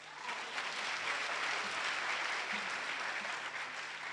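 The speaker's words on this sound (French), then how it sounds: "On peut applaudir la greffière" An audience in a hall at a law event applauds the court clerk, with steady, dense clapping from many hands lasting several seconds.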